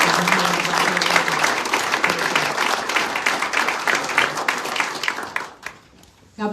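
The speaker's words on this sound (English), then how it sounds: "Would you guys all give a round of applause for all the law enforcement officers?" A large audience at a South Dakota governor's bill-signing event breaks into sustained, loud applause for law enforcement officers, dense clapping that holds steady for several seconds before fading out near the end.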